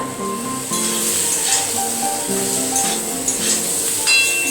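Taro frying in a pan with turmeric and chili paste, a continuous loud sizzle and hiss with occasional stirring scrapes, with music playing underneath and no talk.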